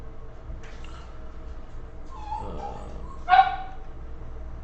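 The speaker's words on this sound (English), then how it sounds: "I gotta go see why my dog's being crazy." A pet dog in a home gives a few faint, high yips and whimpery barks in the background, with one louder yelp near the end over a low room hum.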